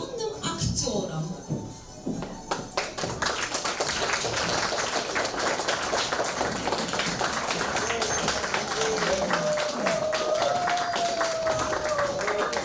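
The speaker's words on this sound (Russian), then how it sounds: "А давайте мы с вами похлопаем нашим юным актерам." Young children's theatre-club audience clapping after a school stage show, a dense steady patter of applause that swells in and holds throughout, with chatter and a voice mixed in underneath.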